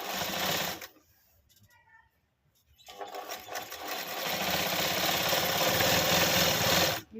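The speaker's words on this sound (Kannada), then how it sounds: "ಇದು ಫಸ್ಟು ಸ್ಟಿಚ್ ಹಾಕೋತೀನಿ." A sewing machine stitching a frill design runs in a loud close whirring burst, pauses for about two seconds with faint handling noises, then resumes a steady continuous whir until the end.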